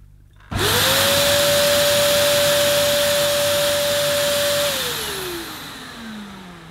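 A Dyson DC03 vacuum cleaner starts up loud and runs steadily at a high motor whine during a suction test, with its suction relief valve kicking in, then the pitch winds down as it is switched off.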